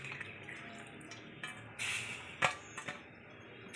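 Water is poured into an oyster mushroom curry cooking in a pan. The pour is faint, with a few brief splashes and drips against a quiet background and no talking.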